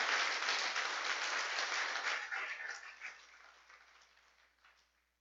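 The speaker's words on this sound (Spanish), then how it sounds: "Denle ese aplauso al Señor." Applause from a church congregation during a sermon, fairly quiet and steady at first, then gradually fading away over the last few seconds.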